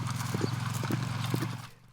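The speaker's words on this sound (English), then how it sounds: "to drive the horses in from their overnight pasture." Horse hooves clip-clop in a steady rhythm on a working cattle ranch as the horses are driven in from overnight pasture at dawn, fairly close, with an occasional whinny, then fading toward the end.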